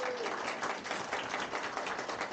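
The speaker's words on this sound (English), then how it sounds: "Round of applause for Sarah." Wedding guests at De Courcey's Manor applaud the bride in steady, even clapping that sounds fairly distant and soft, with faint crowd murmur in the room.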